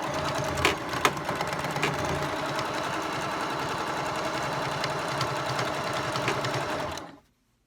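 A sewing machine stitching catnip pillows closed runs as a loud, steady, close whir for about seven seconds, then cuts off abruptly into silence.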